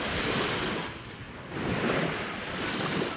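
Waves washing onto a clear-water beach in Bodrum, Turkey, a close, steady surf wash that swells and eases in two soft surges, mixed with light wind rush and no voices.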